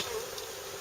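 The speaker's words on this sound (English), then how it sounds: "lots of lovely bees" Honey bees in an opened hive, under a lifted crown board, make a soft, continuous buzzing hum, faint and steady for a brief moment with no voices.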